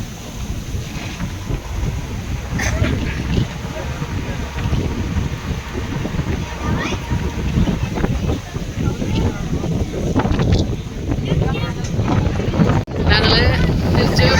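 Wind roars steadily across the microphone on a boat ride off Musandam in fair weather, with water and boat noise rumbling underneath throughout; a few faint voices come through in the background.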